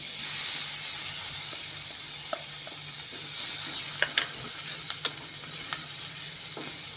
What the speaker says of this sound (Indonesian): Setelah panas, kita masukkan bawang merah sama bawang putih yang sudah kita cincang tadi ya guys.